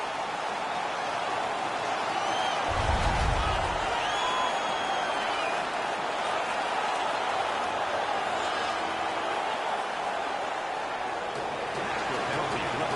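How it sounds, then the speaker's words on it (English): Home crowd at an ice hockey game roaring and cheering after a fight, a steady, dense wash of arena noise that swells briefly near the start and holds loud throughout. "The home crowd is ecstatic."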